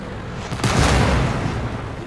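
A Grille self-propelled artillery gun fires once in World of Tanks on the Malinovka map, a heavy close boom with a sudden onset and a long, rumbling decay over a continuous engine-like background.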